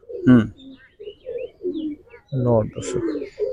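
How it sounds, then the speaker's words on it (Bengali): Giribaj pigeons cooing in a loft, several close, throaty coos in short bursts with a few faint chirps between them. "অনেক সুন্দর কবুতর, পাক অনেক স্ট্রং"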